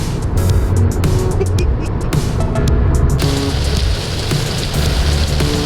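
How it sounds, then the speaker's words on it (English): Light rain patters steadily on a vehicle travelling past wheat fields near Bennettsville, South Carolina, blended with continuous road and engine rumble throughout, with no break in the noise. "Just a little rain."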